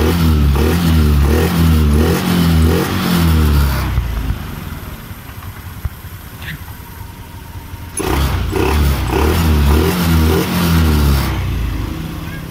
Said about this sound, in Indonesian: Oke, coba kita starter lagi di sini.